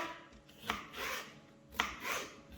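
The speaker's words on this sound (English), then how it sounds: "I'll just cut this pepper a little smaller, less work for the blender" A knife cuts a chilli pepper into smaller pieces for Portuguese piri piri sauce, with two sharp, close chopping strikes on the board amid soft rubbing and handling noises.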